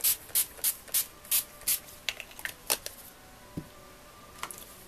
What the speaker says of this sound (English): And then we're just going to spray it with some water.